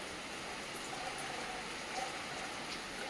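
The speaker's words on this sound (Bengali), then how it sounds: "একদম ঝমঝমিয়ে বৃষ্টি চলে এলো" Steady, dense rainfall hissing evenly throughout, a continuous wash of drops without pauses or voices.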